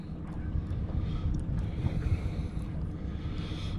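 A Minn Kota trolling motor turning circles on the water during GPS heading sensor calibration, heard as a steady low hum under constant wind buffeting and water noise, with no voices.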